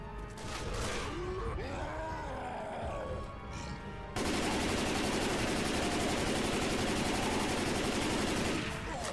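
A Tank zombie in Left 4 Dead 2 roars amid dense game action, a loud continuous roar and heavy noise that swells halfway through and carries on to near the end, mixed with gunfire.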